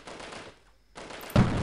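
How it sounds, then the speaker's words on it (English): Gunfire in the Delta Force video game, a short burst of shots, then a brief near-silent gap before a louder blast cuts back in. "I am getting shot from somewhere, I just can't figure out where it is."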